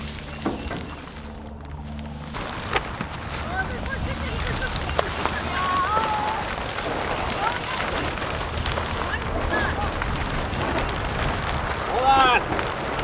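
Wind gusts across plastic sheeting being pulled over a high tunnel greenhouse frame, a steady rushing roar with crackling, flapping texture that fills the whole stretch; a voice may be faintly present underneath.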